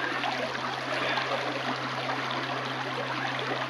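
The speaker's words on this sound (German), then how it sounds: "ich sitze hier an einem Bach." A babbling brook beside a seated listener, its broad, steady rushing and trickling of water filling the scene close and loud without a break, recorded on a Zoom H1 microphone.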